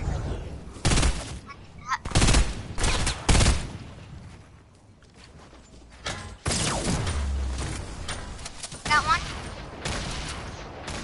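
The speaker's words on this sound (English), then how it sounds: "Why you gotta spam your SMG?" SMG fire in the shooter game Snorkel Ops, with several loud, rapid bursts that stop and start, mechanical clicks, and a stretch of quieter background between volleys.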